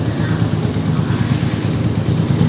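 A Honda TMX 125 motorcycle engine idles while warming up, a steady low rumbling putter held close and even for the whole stretch.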